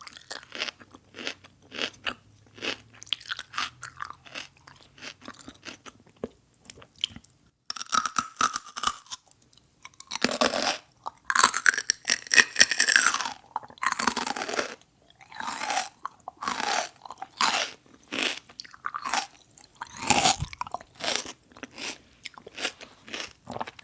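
Fresh celery stalks are bitten and chewed up close, with loud, wet crunches coming in steady bursts and snaps, alone without any talking.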